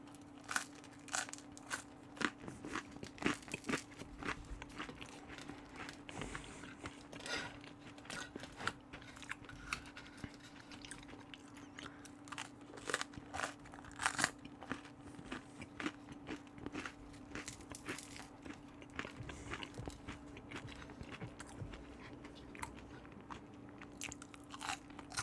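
Close, steady chewing and biting on turkey with soy sauce, with repeated crunchy, moist mouth sounds throughout, recorded intimately in an ASMR style with no talking.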